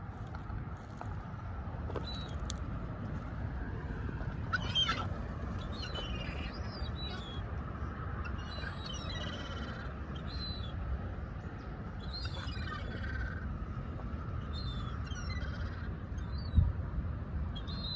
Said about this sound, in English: so I'm just feeding the birds, the seagulls.